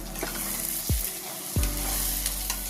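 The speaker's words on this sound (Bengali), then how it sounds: "দেখুন আমি আবারও একবার নাড়াচাড়া করে নিচ্ছি।" Cauliflower korma frying in oil in a pan, a steady close sizzle with two soft scraping stirs of a spoon partway through.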